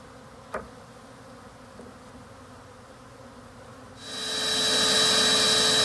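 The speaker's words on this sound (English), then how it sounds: "there's bees all over the place" Honey bees buzzing, faint at first, then a dense, loud swarm hum swells in and holds steady near the listener, around a hive being robbed during a removal from a boat.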